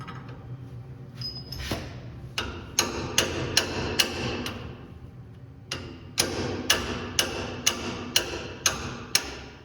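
Hammer blows on a stuck Dana 70 axle bearing, sharp metallic strikes that come in two bursts of rapid, evenly spaced hits, close and loud with no talk.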